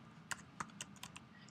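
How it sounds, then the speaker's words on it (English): Computer keyboard typing: a handful of soft, separate key clicks in an uneven rhythm, faint and close in an otherwise quiet room. "I'll just start typing that in."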